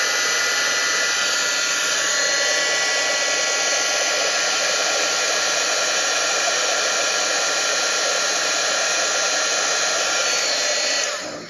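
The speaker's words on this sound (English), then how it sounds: "I'm going to heat up my embossing gun really quickly and get this embossed." A heat embossing gun blows a steady, loud whooshing hiss while melting embossing powder on a stamped card, running continuously with no breaks before cutting off at the end.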